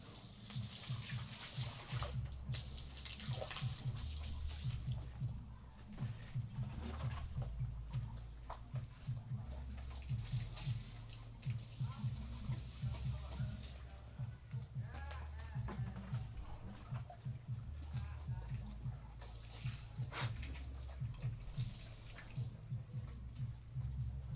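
Drinking water for pigs splashes and pours steadily over a low mechanical rumble, with clattering in the background throughout.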